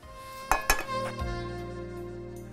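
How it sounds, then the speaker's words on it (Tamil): A pan is set down on the stove with two sharp metallic clanks close together, a lighter knock just after, then a ringing metal tone that fades over a low background hum. "இப்போ ஒரு பேன் அடுப்பில் வச்சிடலாம்."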